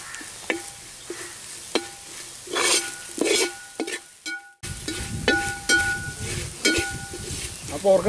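Onions with chilli, coriander and masala powders sizzling in a pan for a pork fry, stirred with a spoon in repeated scraping strokes against the pan, close and steady, with a short pause partway through.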